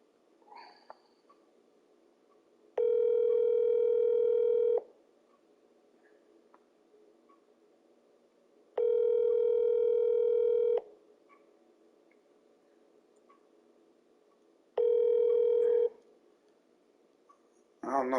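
Phone call ringback, three long steady two-second tone bursts separated by roughly four-second gaps, clear and fairly loud, with faint room noise between rings.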